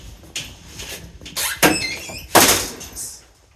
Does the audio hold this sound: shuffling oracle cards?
no